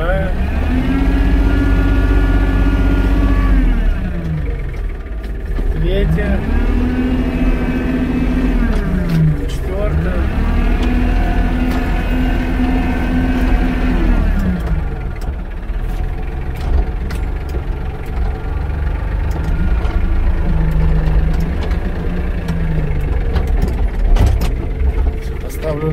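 An ISEKI TK29FF tractor engine runs steadily through gear changes, its low drone dipping and rising in pitch at each shift, with someone talking close by over the engine.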